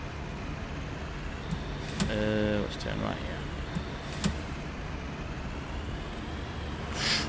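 A garbage truck drives in a video game, its engine a steady, fairly loud drone with a few brief mechanical clicks and hisses, while someone talks over it.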